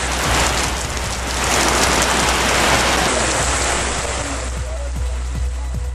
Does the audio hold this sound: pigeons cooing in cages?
no